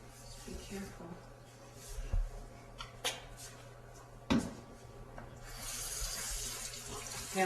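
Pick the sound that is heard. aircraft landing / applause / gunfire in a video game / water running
water running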